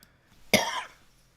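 A single sharp cough bursts out close to the microphone, decaying quickly into near silence against a quiet background.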